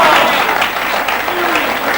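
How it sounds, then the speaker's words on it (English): Crowd applause at the 1999 WEPF World Pool Championship, a loud, steady sheet of clapping from an arena audience lasting about two seconds, with a commentator's voice faintly audible beneath. "The applause is starting."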